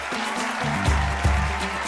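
The audience at the Miss World Kenya 2012 pageant finale applauds in sustained clapping, with a voice carrying over the crowd.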